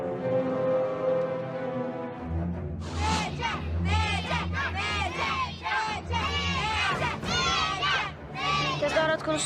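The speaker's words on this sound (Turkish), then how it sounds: "Tezahürat konusunda hiç yaratıcı bir okul değiliz." A school crowd cheers and shouts in loud, rhythmic bursts, chanting together after a short stretch of quieter sound.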